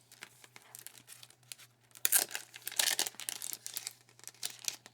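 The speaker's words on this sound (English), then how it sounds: "Let's open the bag of stickers." A plastic bag of stickers being torn open and handled, close crinkling and crackling in quiet bursts that grow louder midway, no talking.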